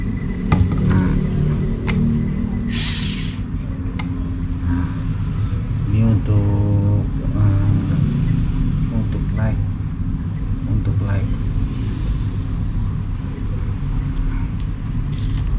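Kyosho Mini-Z AWD Subaru WRX STI RC car drifting on a surface, whirring motor with rising and falling pitch as it accelerates and slides, heard under someone talking throughout.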